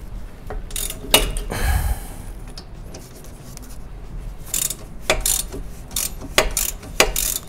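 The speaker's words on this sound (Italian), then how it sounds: "Mettiamo il cricco in posizione per svitare e la chiave fissa dall'altra parte." A wrench or ratchet works loose the front shock absorber nut on a Fiat Panda 169, giving close, loud bursts of clicking metal ratcheting separated by brief pauses.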